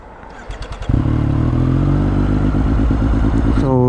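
A motorcycle engine cranks with a few quick starter bursts, then catches and settles into a loud, close, steady idle, with a brief rise in revs at the end.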